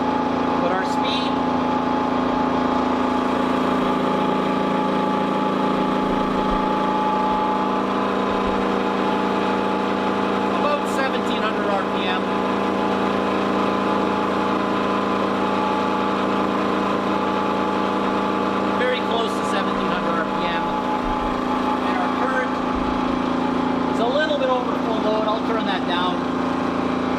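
A wound rotor induction motor spins up with all rotor resistance shorted out, a steady loud electrical hum and whine with layered harmonics, while someone talks over it throughout.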